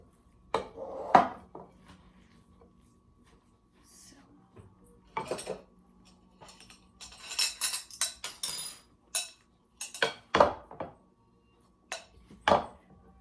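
Kisir, a Turkish bulgur salad with herbs, spices, onions and scallions, is stirred in a bowl, giving bursts of clinking and scraping utensil sounds separated by quiet pauses, close and fairly crisp.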